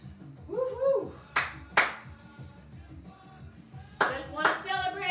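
A few sharp hand claps in quick pairs ring out during a beginner walking workout for moms, sitting over rhythmic music with a brief bit of vocal sound.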